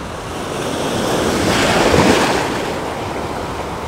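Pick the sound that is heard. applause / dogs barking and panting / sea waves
sea waves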